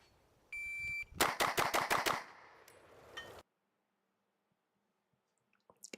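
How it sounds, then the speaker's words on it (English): A semi-automatic rifle fires at a target in a quick string of about six sharp cracks, preceded by a short electronic beep and followed by silence with a few faint clicks. "But is this a semi-automatic rifle?"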